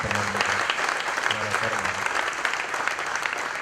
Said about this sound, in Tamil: ஐயாவுக்கு நம்முடைய கைத்தட்டில் அன்பு வாழ்த்துக்களாக